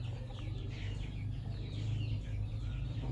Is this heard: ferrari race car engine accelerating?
no